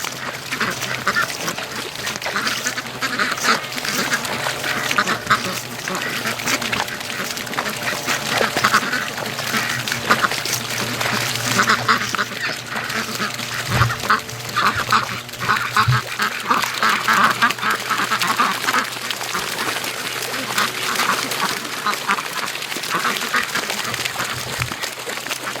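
Muscovy ducks on a farm near a swamp and creek give off a dense, steady chorus of quacks and calls, moderately loud and continuous for the whole stretch.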